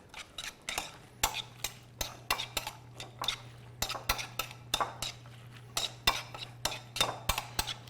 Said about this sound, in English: Some more of our Pico De Gallo. We're going to give it a good stir.